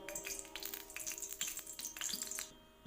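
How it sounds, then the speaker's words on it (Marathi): Mustard seeds splutter in hot oil in a kadhai, faint rapid crackles and pops over a low sizzle. The pops come in quick irregular bursts and fade near the end. "मोहरी छान तडतडली"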